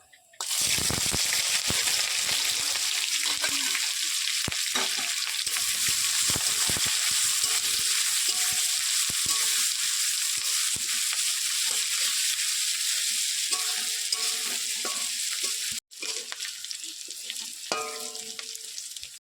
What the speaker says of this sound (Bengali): আদা কুচি রসুন কুচি আর লঙ্কাটা দিয়ে দেবো।